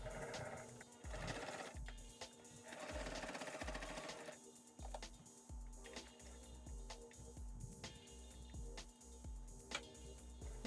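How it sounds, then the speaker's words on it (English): Sewing machine stitching bias tape onto a fabric face mask, a rapid rhythmic needle thumping in steady runs with brief pauses, close and clear with no talk. "now we're just going to sew just the back side of the bias tape to the mask"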